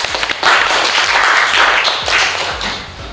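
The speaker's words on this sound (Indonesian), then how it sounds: "Oke, tepuk tangan untuk Vidya." A classroom of students applauds a classmate during a chemistry lesson, with loud, brisk clapping from many hands that surges and tapers over a few seconds, close by and free of talk.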